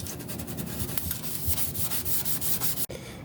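Sandpaper scuffs the body of a Jeep TJ before bed liner, a close, steady rasping rub with rhythmic back-and-forth strokes, cutting off abruptly near the end.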